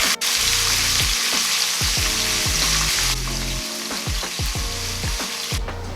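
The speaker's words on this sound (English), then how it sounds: "next we're gonna start grilling. Or in my case, frying." Chicken fries in a pan with a loud, steady sizzle, broken by repeated scraping and stirring knocks as the pieces are moved about, with no voices over it.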